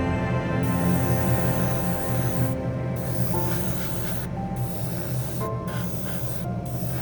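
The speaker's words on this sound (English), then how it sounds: "Did not feel difference spraying this automotive paint with a smaller airbrush." A small airbrush sprays automotive paint onto a BMW M4 G82 wide body scale model, a close, steady hiss in long bursts broken by several brief pauses.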